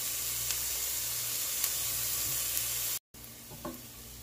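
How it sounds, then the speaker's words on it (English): Bacon and onions sizzle in a pot for fish chowder, a steady close frying hiss with small pops. It cuts out briefly near the end, then returns with a light clink. "This is going to cook for about 5 minutes until the bacon is brown and the onions are really nice and softened up."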